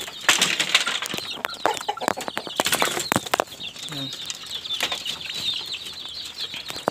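A group of young chicks peep in quick, high, continuous chirps close by, with some flapping and fowl clucking mixed in.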